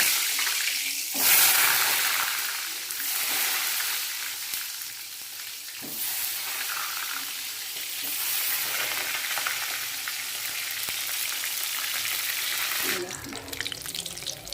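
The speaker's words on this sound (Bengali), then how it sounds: "তেল গরম হয়ে গেছে, বেগুনটা ভেজে নেব" Eggplant frying in hot oil in a wok, a steady bright sizzle that runs throughout with a few stirring or shifting bumps, close and moderately loud, no talk over it.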